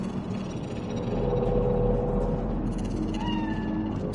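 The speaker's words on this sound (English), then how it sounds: "It's a cat like any other." A cat in Cyberpunk 2077's Night City meows a few times, rising in the second half over a low, steady ambient rumble, close and clear, with no talking.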